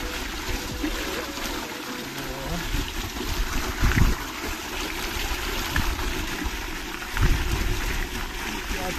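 A small mountain waterfall stream of very cold water rushes steadily and loudly close by, a continuous broadband flow with a couple of brief surges.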